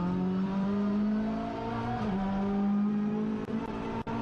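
A TCR touring race car accelerates hard at Sandown International Raceway, its engine note holding a steady strained drone that dips briefly as it shifts, loud and close throughout with no voices.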